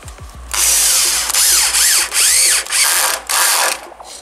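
A power drill drives self-tapping screws, 5 by 45, into a 40 by 90 antiseptic-treated bench board, whirring loudly in five or six short bursts separated by brief pauses, with no talk.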